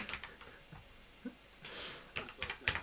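Typing on a computer keyboard: a scatter of quiet, irregular key clicks, some in quick little bursts and others alone, with no talking.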